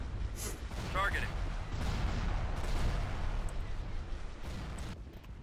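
Starfighters trade weapon fire in a Star Wars space battle video game, a dense, continuous barrage of blasts and booms filling the scene, with brief radio-style voices and chirps over the top.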